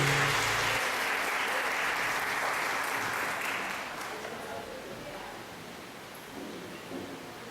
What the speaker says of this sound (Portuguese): Aplauda ao Senhor, obrigado, Ministério de Louvor.